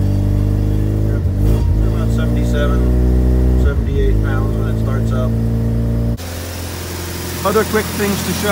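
A rotary-engine pickup truck runs loud and close with a steady harmonic drone, its pitch rising and falling as it revs, then dropping to a lower idle; someone talks over it.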